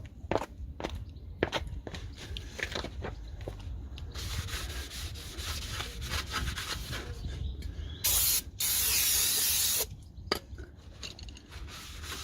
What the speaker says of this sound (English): get some brake cleaner. You need to use brake cleaner to get all the grease off